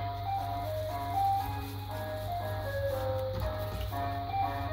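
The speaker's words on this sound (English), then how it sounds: "There's an ice cream van, you can hear outside." An ice cream van's tinkling chime melody plays outside, somewhat distant, over a steady low hum of traffic or engine, with no talking.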